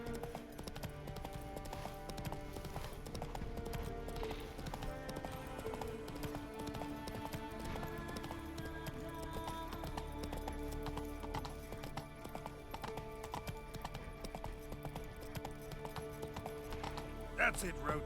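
Steady clip-clop of the horse Roach's hooves in The Witcher 3: Wild Hunt, trotting continuously over a game music bed, with someone talking over it.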